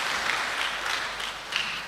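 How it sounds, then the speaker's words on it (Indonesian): A church congregation at a Sunday service claps for about two seconds, giving faint, scattered applause with a few sharper claps standing out. "Berilah semangat dengan tepuk tangan."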